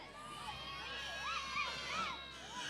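A crowd at an outdoor Christmas parade, distant children shouting and cheering in rising and falling calls over a steady low murmur, faint and diffuse.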